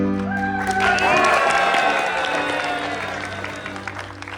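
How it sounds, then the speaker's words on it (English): A live theater audience at a family night show claps and cheers for the hero's entrance, a loud burst of applause over music that peaks early then gradually fades. "you're to clap and cheer, yay!"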